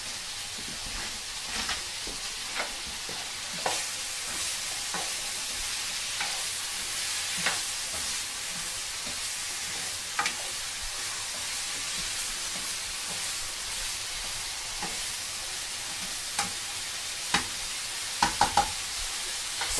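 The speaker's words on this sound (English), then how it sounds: "the pork and the first run of the vegetables are sauteing" Pork and vegetables sauteing in a pan for a Thai-style stir fry: a steady, close hiss and sizzle with periodic stirring scrapes and clicks, getting more clattery near the end, no talk.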